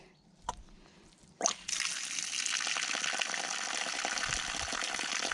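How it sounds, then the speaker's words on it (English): A tap at an off-grid barn conversion homestead in central Portugal turns on after a few knocks and clunks, then water gushes out in a steady, fairly loud hiss that continues to the end. "And water comes out of that tap for now."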